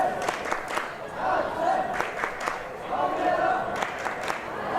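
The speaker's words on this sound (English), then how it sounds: "finally we hear fans for the second time cheering" Spectators at an outdoor ultimate frisbee match cheer and shout in scattered bursts, moderately distant and not very loud, with a few sharp claps and calls rising and falling.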